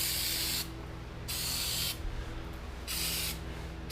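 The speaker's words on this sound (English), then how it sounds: "I want to spray that rubberized undercoating on there." A spray can lays rubberized undercoating onto the passenger-side floor pan of a vehicle, with three steady hissing bursts of about a second each, separated by pauses, close and loud against a low background hum.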